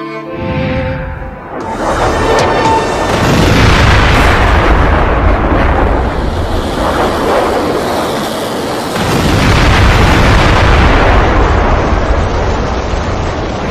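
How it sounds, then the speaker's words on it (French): Loud, deep booms and rumbling blasts of explosions during an Israeli attack on Tehran at night roll on continuously, with crackling bursts layered over a heavy low roar. "Explosions lighting up the night in Tehran as Israel attacks Iran's capital"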